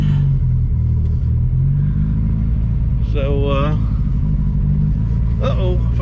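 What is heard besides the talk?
1972 Ford Pinto engine running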